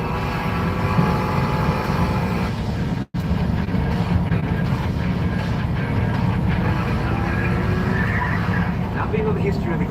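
A Mazda Miata holds a long tire burnout, a continuous loud roar of engine and squealing rubber that runs unbroken apart from one brief dropout.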